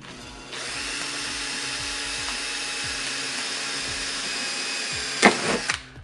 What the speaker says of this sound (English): Two holes to receive this drill.